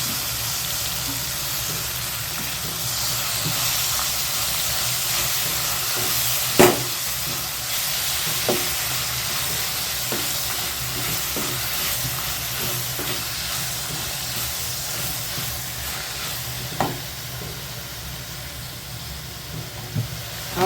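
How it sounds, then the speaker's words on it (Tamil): Curry leaves and coriander sizzle steadily in a pan of softened tomato and onion for kara chutney, a continuous broad hiss with a few sharp crackles and pops scattered throughout. "கருவேப்பிலை, மல்லி ரெண்டுத்தையும் போட்டுங்க."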